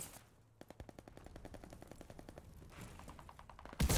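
Rapid shotgun and automatic gunfire in the shooter game Call of Duty: Vanguard, a dense run of sharp close blasts with echoing tails, ending in a loud burst.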